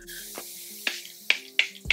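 Several short, sharp spritzes of Charlotte Tilbury Airbrush Flawless Finish setting spray, four quick bursts at uneven intervals, close and distinct against a quiet, faintly humming background.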